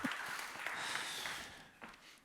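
An audience applauds after a talk on Snowflake data growth, a moderate burst of scattered clapping that swells, then thins and fades toward the end, somewhat distant.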